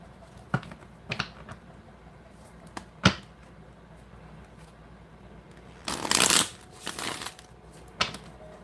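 Tarot cards are shuffled in a few short, crisp riffles and flicks, separated by quiet pauses, with one longer ruffling burst near the end.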